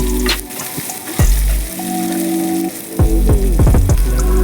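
Green chilies frying and sizzling in hot oil in a pan for a Bengali breakfast dish, a steady close crackle with occasional stirring scrapes, heard alone without talk.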